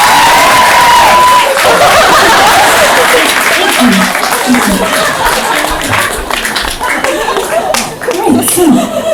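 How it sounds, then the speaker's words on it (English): Loud audience applause fills a live comedy show in Sydney, dense clapping mixed with cheers and some laughter that gradually thins out. "give a round of applause"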